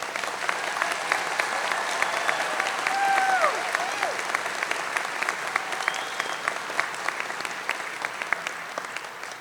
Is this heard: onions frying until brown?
no